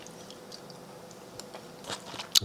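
Crunchy chili peppers and onions are chewed with tofu, quiet crisp bites repeating close up, with a sharper crunch near the end.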